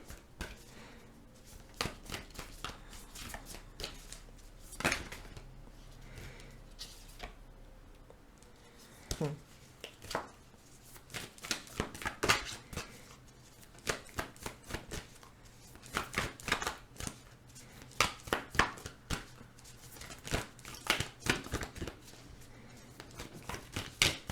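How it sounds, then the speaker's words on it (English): Tarot cards being pulled and shuffled during a reading, a long run of quick, irregular papery slaps and flicks, some sharp and close, with a low steady hum underneath and no talking. "I'm going to pull a couple of more cards here"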